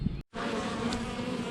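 Honey bees hum and buzz in a dense, steady drone close by while a hive is opened and inspected in a bee yard, with no talking.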